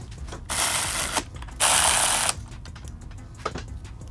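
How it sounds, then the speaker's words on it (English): A ratchet with a 12mm socket tightens bolts on a 2024 Yamaha MT-09 motorcycle during fender eliminator fitting, two quick bursts of rapid ratcheting clicks, close and loud, separated by a brief pause. "Now using that 12mm socket, I will tighten these up"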